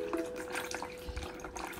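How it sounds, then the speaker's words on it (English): Almond milk being poured into a baking dish for a tres leches cake, a faint soft liquid trickle heard quietly and close up. "I'm gonna pour almond milk in"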